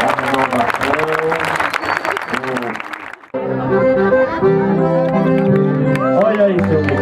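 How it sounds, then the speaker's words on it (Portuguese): Clapping from a small crowd at a 60th wedding anniversary vow renewal fills the first few seconds, then gives way to people singing together loudly nearby. "Vamos aplaudir a renovação."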